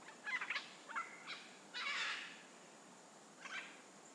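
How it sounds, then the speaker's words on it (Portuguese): Hyacinth blue macaws give several harsh, raspy calls in short bursts, a few spaced apart and one longer squawk, faint and at some distance with no talk. "Araras azuis, gente."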